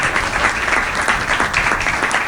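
Audience at a Hindi comic poetry gathering breaking into loud, dense clapping that runs steadily from start to finish, close and full.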